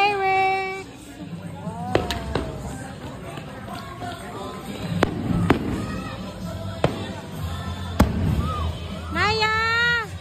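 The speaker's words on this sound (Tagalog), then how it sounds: "Magpa-fireworks na guys." Fireworks bang and crackle in sharp bursts at Enchanted Kingdom amusement park in Santa Rosa, Laguna, Philippines, amid lively outdoor noise, with children shouting and running nearby and people chattering throughout.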